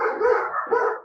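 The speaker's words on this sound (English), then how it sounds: "Got lots of dogs barking." A dog barks twice in about a second, close and fairly loud, each bark a short tonal yelp, with no talking.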